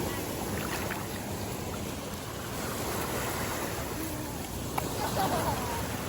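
Ocean waves and surf rolling in on a chilly day, a steady broadband wash that fills the whole stretch with slight wind buffeting, faint distant voices now and then.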